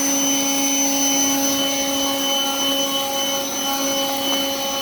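A steady, loud whining motor drone from a Ryobi 18V One+ HP cordless jet fan leaf blower, with constant high tonal whine and broadband air rush, running continuously without pause.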